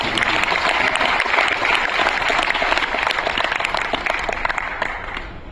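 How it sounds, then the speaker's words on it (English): A conference audience at Fortinet Accelerate 2025 in India applauds cricketer Jonty Rhodes, a loud, dense wash of many hands clapping that continues steadily and tapers off slightly toward the end. "Jonty Rhodes, once again a huge round of applause"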